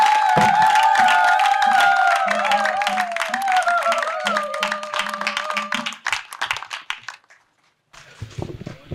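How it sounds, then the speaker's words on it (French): Audience applause at an International Day of Peace ceremony, dense clapping with music or voices over it for about six seconds, then thinning into scattered claps and a brief near-silence. "Recevez-le avec des applaudissements"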